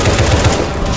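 Rapid bursts of automatic gunfire in the zombie shooter Left 4 Dead 2, a dense, fast rattle of shots filling a short stretch, close and loud with no talk over it.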